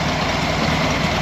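Volkswagen Beetle engine idling close by, a loud, steady low rumble with no talk over it.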